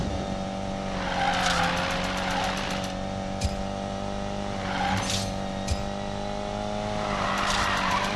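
A car drifting in the racing game Need For Speed Payback, with a steady engine drone and tire squeals rising in several bursts over a continuous background hum.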